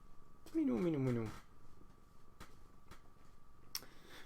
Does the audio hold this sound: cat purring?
yes